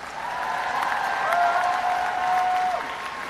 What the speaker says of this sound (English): Let's give a round of applause for our PhD graduates.